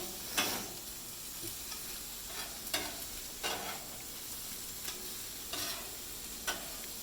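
Teriyaki chicken and fried rice sizzle steadily in a hot pan outdoors, with about seven sharp scraping stir strokes repeating every second or so over the constant frying hiss.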